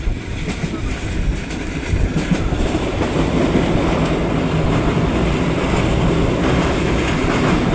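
A Sylhet-to-Dhaka passenger train rolls along the rails with a loud, dense, steady rumble and faint rhythmic clatter of wheels throughout, heard from inside the carriage with no talking.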